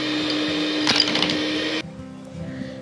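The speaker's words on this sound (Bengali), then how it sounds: "এবং যে হার্ড ক্রিমটা ছিল সেটাকে আমরা ফেটিয়ে নেব।" Hard cream is whipped in a pan to make homemade chocolate ice cream, with a steady, loud whirring drone that runs unbroken for almost two seconds and then cuts off abruptly, leaving faint room noise.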